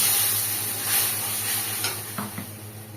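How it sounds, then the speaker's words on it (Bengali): Spice paste for a mung bean, drumstick and poppy seed curry fries steadily in oil in a pan, a constant close hiss with a few soft stirring scrapes near the end. "মশলাটা প্রায় কষানো হয়ে গিয়েছে"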